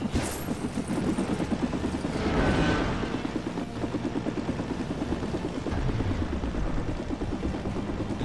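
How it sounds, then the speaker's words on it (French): A helicopter in the video game Lego Marvel Super Heroes whirs with a continuous rotor chop, loud and steady throughout, with game clatter mixed in. "Allez, enlève cet hélico"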